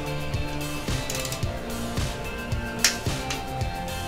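A torque wrench tightens a bolt in a workshop, giving a series of evenly spaced ratcheting clicks with a sharper metallic snap near the middle as it reaches the set torque, close and fairly loud.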